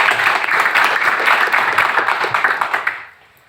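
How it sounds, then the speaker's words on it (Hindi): Audience at a business presentation claps loudly and steadily for about three seconds, a dense close patter of many hands that then stops abruptly into near silence. "एक बार तालियां हो जाए"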